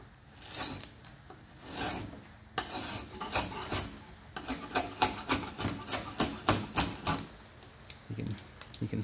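A chasing tool cuts a ring off timber turning on a wood lathe, giving a chattery, rasping scrape in repeated short bursts that grow more rhythmic, close and fairly loud with no talk.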